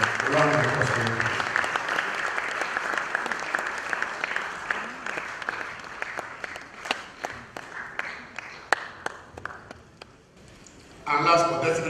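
Audience applause rings out for a guest being introduced at a Nigerian event, a dense crowd clapping that thins into scattered claps before a voice resumes at the end.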